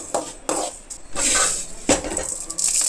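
Dry grains being roasted for homemade protein powder rattle and scrape across a pan in short, close bursts as they are stirred, with a crisp, gritty clatter and no voices.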